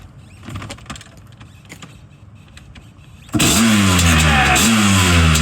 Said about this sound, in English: One good kick, and a little bit of gas, and it'll probably fire.